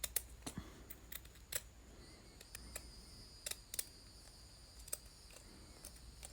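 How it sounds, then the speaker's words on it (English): Scissors cut out small fabric pieces for a bag charm, giving quiet, close, crisp snips that come at irregular intervals over a faint background. "I'm cutting these out around the edge and also making sure to cut out that window."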